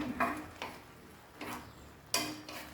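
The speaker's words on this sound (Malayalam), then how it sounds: "മുളക് പൊടി ഉപ്പ് പൊടിയൊക്കെ ഇതിൽ പിടിക്കുന്നതിന് വേണ്ടി ഒന്ന് ഇളക്കി കൊടുക്കാം" A spoon scrapes and clinks against a pan while chili powder and salt are stirred into a drumstick curry, giving a few faint, scattered taps and one sharper knock near the end.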